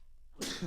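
A single sudden, loud sneeze bursts out close by after a brief quiet moment, breathy and forceful.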